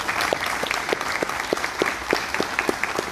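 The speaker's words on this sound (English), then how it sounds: "So I think we should give them a round of applause." Audience applause in a parish church after a ceremony for young people: steady, fairly close hand clapping from a crowd, sustained for a few seconds with no talking over it.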